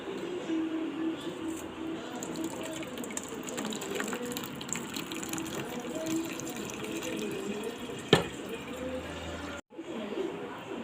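Water drains through a cloth as curdled milk is strained to separate paneer for rasagolla, a steady close trickling and splashing with a sharp click near the end.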